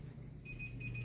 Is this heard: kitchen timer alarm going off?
yes